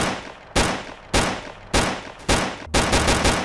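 Automatic gunfire in the video game STALKER Clear Sky mod, several loud bursts of rapid shots separated by short pauses, with a final longer stuttering volley.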